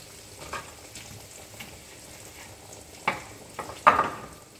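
Lemon garlic chicken and vegetables sizzle in a skillet with a soft, steady hiss, broken near the end by a few louder clatters of utensil against pan.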